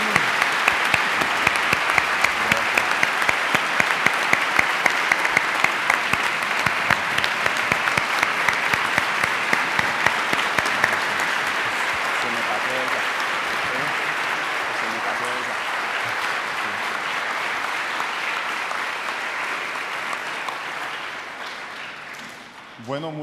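Congregation at a Spanish-language Catholic mass applauds warmly, steady dense clapping that fades gradually toward the end, heard from within the room.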